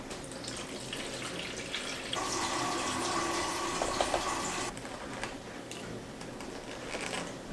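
Water poured into small seed-germinating cups along with fertilizer, a steady splashing pour of a few seconds against quiet indoor background, with faint trickles before and after.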